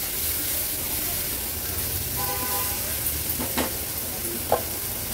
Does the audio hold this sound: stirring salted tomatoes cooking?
yes